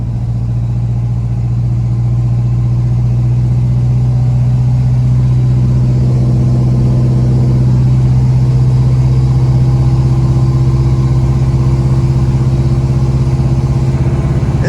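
Big block engine in a 1979 square body truck, holding a loud, steady, deep idle, then briefly goosed into a rev partway through before settling back to idle.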